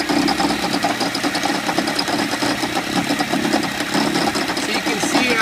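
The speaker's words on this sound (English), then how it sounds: "So you can see how it's gyrating and making that grinding noise." The front wheel of a 2007 Toyota Sienna grinds while steering. A loud, steady, rhythmic mechanical grinding and knocking churns close by over the running engine without letup.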